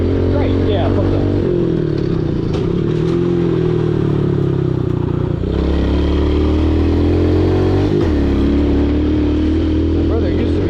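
An RM85 dirt bike rides through ruts, its engine droning loud and continuous with small shifts in pitch as it bumps along. A person talks over the engine throughout.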